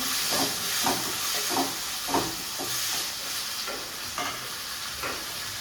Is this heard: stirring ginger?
yes